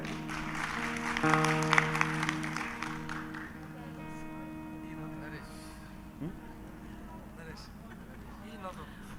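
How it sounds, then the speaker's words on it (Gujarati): Audience at a Gujarati comedy show breaking into a short burst of applause that fades out, mixed with voices and steady tonal sound. "આ બાલેટાઓને બેને વધાવો તાળીઓથી"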